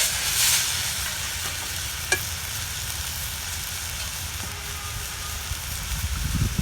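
Mudakathan keerai greens sautéing in a pan, a steady soft sizzle and crackle with faint stirring scrapes, continuous and close, with a single sharp tap partway through.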